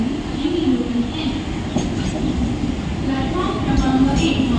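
A Mumbai local train at Diva junction platform at night, a slow service to Kallyan, gives a steady heavy rumble of wheels and carriages that fills the whole stretch with faint squeals on top, heard close from the platform.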